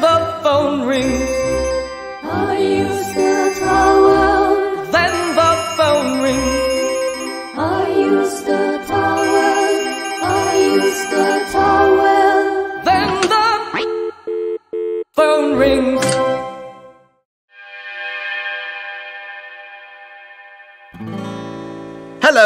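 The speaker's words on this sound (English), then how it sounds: "then the phone rings." A cartoon telephone rings in a bright children's animated scene, a repeated electronic ringtone sounding loud and close over music, then stopping before a short musical sting.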